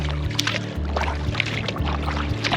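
An old kayak paddled across flat water, with soft splashes and trickles from the paddle strokes over a steady low background hum.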